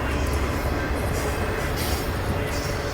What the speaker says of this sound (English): you can see that's the CNR, the Canadian National Railway main line, coming through here alongside the trail.